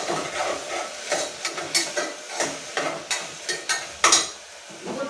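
Tomatoes cook in a pan with a soft sizzle, broken up by repeated scraping stirs of a spoon against the pan in an uneven rhythm, close and moderately quiet, with no talking.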